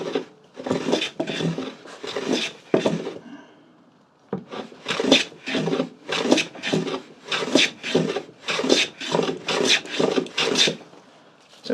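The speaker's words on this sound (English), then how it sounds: "So we're taking a shaving." A cutter takes repeated shavings off a sliding keyhole lever cap in a hand plane, each rasping stroke close and distinct, a handful of passes, a short pause, then a steady run of about a dozen more strokes.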